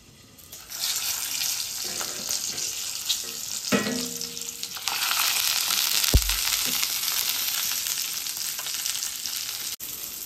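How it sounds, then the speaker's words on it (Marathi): Eggplant pieces frying in hot oil in a wok with asafoetida and turmeric, a steady loud sizzle with a sharp burst midway as the vegetables hit the oil, plus some scraping and stirring. "वांगी आहे ती तेलामध्ये जरा परतून घेणार आहे"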